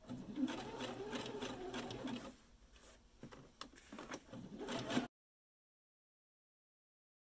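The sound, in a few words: sewing machine zigzag stitching elastic onto fabric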